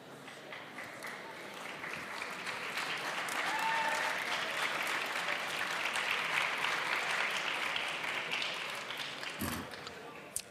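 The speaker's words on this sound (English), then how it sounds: "So that you don't get tired from all the clapping for all of the teams." Sustained applause from the audience at the EOES 2023 closing ceremony in Riga, Latvia, a fairly distant, even wash of many hands clapping for about ten seconds that swells and then fades, with a sharper knock near the end.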